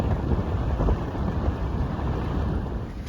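Strong wind rushes over a sailboat riding at anchor with its snubber stretched taut, a loud, steady broadband roar with gusty swells and no voices.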